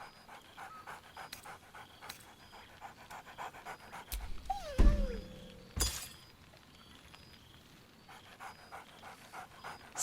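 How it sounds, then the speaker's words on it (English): Dog panting steadily and excitedly in Baldur's Gate 3, breaking into a short bark or yelp near the middle, with a few light clinks around it; no speech. "Scratch barks merrily in something like agreement"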